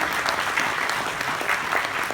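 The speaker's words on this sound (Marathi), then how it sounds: "जोरदार टाळ्या हो जाऊ द्या" An audience at a school programme at King George English School in Mumbai claps loudly and steadily, with dense, continuous applause and no one speaking.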